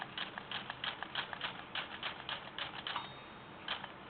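Keys of a Remington Monarch noiseless typewriter with no ribbon tap in a quick irregular run of soft muffled strikes, close and fairly quiet, pausing briefly before a couple of final keystrokes.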